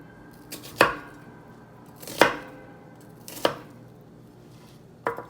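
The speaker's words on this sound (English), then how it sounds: "Now that I have these layers that I cut into it, I will go the other way" A knife dices a pepper on a cutting board in four separate, crisp chops spaced about a second or more apart, each one a close, sharp thunk against the board with a quiet background between them.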